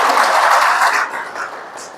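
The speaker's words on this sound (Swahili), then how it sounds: "Tumpigie makofi mkuu wetu wa wilaya." A crowd applauds the district commissioner at a public gathering in Tarime, the clapping loud and dense at first, then thinning and fading over about two seconds.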